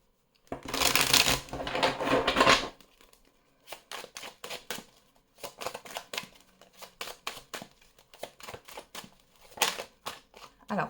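Tarot cards are shuffled close by: a long riffling burst at first, then a quick series of short, crisp flicking snaps as the cards are cut and handled.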